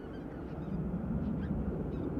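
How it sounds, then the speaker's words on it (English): A group of geese honks faintly overhead in a V formation near Amsterdam Schiphol Airport, scattered distant calls riding over a steady low rumble of wind and airport noise. "Group of geese overhead. I'm thinking I'm hearing geese."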